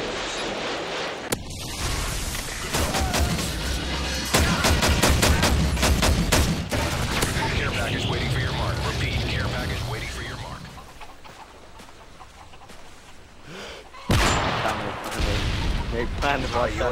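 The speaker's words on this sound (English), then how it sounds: "Friendly Predator missile inbound." Video game combat with a Predator missile strike and gunfire: bursts of rapid shots and booming blasts, loud and close, with a sharp explosive hit near the end and voices heard in the mix.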